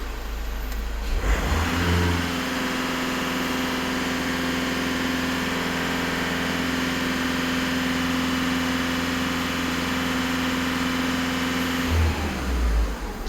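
A Skoda Octavia, VW Caddy or Tiguan engine, being checked during soot and ash cleaning for NOx and EGR faults, is held at raised revs, a steady loud drone that rises at the start and drops away near the end.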